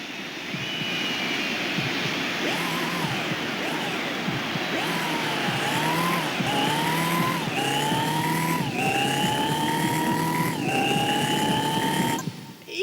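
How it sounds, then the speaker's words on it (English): Rhythmic heartbeat-like thumping from a car in Gran Turismo 4, repeating and gradually speeding up over a loud sustained engine drone and rising whine, with no talk. "That is a heartbeat sound, ain't it? Yeah, it makes a heartbeat sound."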